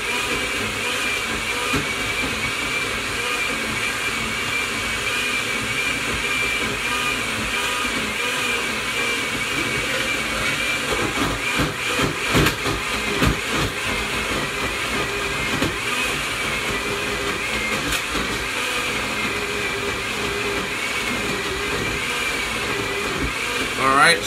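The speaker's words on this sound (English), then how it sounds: "Go ahead and put that in the blender." A blender grinding raw pork heart for a raw pet-food mix. It is a loud, sustained motor whine with a churning, rattling middle section as the chunks break down, running for over twenty seconds.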